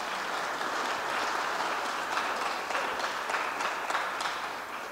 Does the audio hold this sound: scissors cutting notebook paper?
no